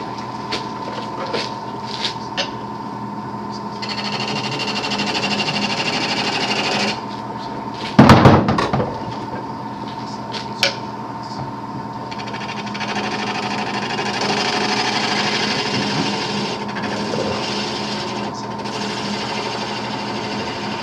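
A wood lathe turning a multi-axis candlestick gives a steady motor whir with a constant tonal hum. A brief louder clatter of the tool against the wood comes midway, in a workshop with no talk.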